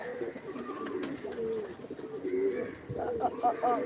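Fantail pigeons coo in a loft, low rounded calls overlapping in a steady murmur with a few brighter notes near the end, close and moderately loud.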